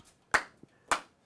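Two sharp, close hand claps spaced about half a second apart, each loud and crisp with a short decay, imitating a nun's insistent clapping; no talking over them.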